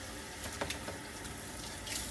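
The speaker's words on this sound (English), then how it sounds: "I'm gonna rinse it with some warm water, make sure it's not too hot." Warm water runs steadily from a tap in a continuous hiss, with a few faint splashes as dishes are rinsed.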